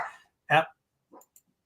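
A dog gives a single sharp bark followed by a couple of softer, shorter yips, each separated by silence, fairly close.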